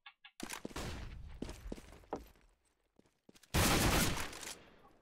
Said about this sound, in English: Nice shot from Beata here.